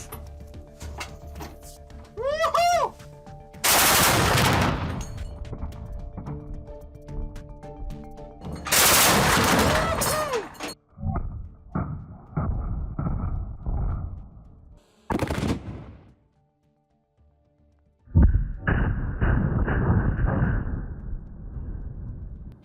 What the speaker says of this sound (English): Я выпустил всего лишь 40 патронов, и дерево просто в щепки.